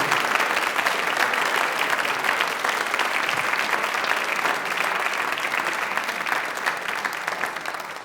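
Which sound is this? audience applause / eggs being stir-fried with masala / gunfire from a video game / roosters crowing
audience applause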